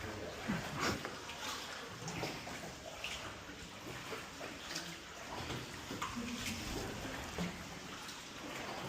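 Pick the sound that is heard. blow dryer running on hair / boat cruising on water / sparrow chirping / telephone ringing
boat cruising on water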